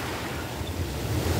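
Ocean surf at Patillas beach washes in as a steady broadband rush mixed with wind noise, swelling slightly louder toward the end.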